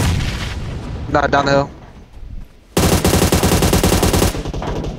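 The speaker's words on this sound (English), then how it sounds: "Wait, keep shooting at him." Gunfire in PUBG Mobile: loud, rapid bursts of automatic fire with heavy blasts, broken by short pauses. Players talk over the shooting.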